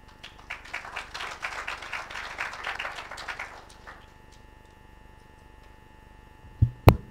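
Applause from a crowd at a university WiFi hotspot launch event, a dense patter of clapping that swells and then fades out after a few seconds, followed by quiet and a couple of sharp knocks.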